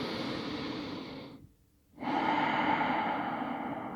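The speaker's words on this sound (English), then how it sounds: "Last big breath here." Deep breathing during a yoga class, a long airy exhale, a short silent pause, then a slow, strong inhale, close and steady with no words.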